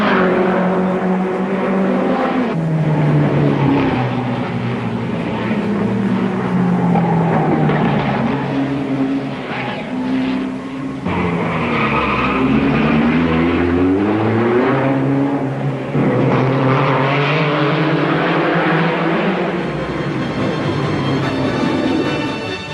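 Vintage race cars roar past during a motor race, engines rising and falling in pitch as several machines approach and pass, one after another, loud and close without any talk.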